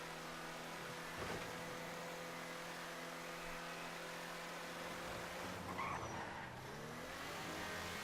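A car driving in Grand Theft Auto 5, with a steady engine drone and road noise throughout and a brief swell around the middle, heard alone at a low level.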